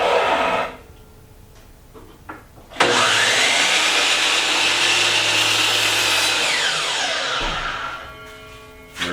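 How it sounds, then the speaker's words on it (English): A drill press with a 10mm bit bores into a wooden piece for a hidden-compartment key ring, a loud steady whir and grind lasting several seconds, with its motor spinning down at the end and a few clicks before it starts. "So we have a 10mm drill bit"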